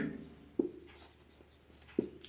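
A teacher writes an answer during an English grammar lesson, leaving two brief, sharp scratching taps about a second and a half apart against a quiet room.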